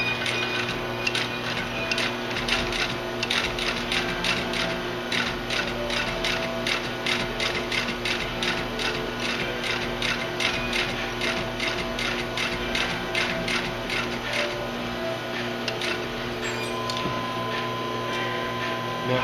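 Sewing machine stitching a leather messenger bag, a steady rapid mechanical clatter of needle strokes running continuously and close up, with no talk over it.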